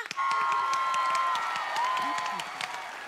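A studio audience at a Thai television talent show applauds with scattered cheers, the clapping starting abruptly and holding steady, with a sustained high tone running through it.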